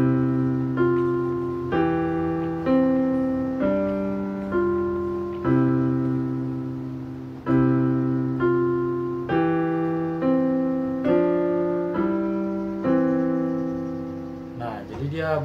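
A piano plays a simple children's song as a slow melody, single notes and chords struck one after another, each ringing and fading before the next, alone with no talking.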